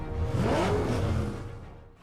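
Batman's modified, armored vehicle accelerating as a loud engine rev that swells and sweeps upward over about a second, then fades away, with no talking.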